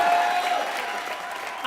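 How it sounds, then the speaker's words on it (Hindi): A studio audience on a comedy television show applauds for Bharti and Siddharth, with brief, dense clapping at moderate volume and a faint tone running underneath. "जोरदार तालियां हो जाएं भारती और सिद्धार्थ के लिए"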